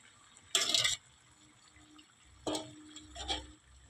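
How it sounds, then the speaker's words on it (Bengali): Hot water splashes into a pan of cooked mutton in three short pours, close by, the first burst loudest, followed by quieter gurgles. "মাংসতে গরম জল দিব, ঠান্ডা জল দিব না।"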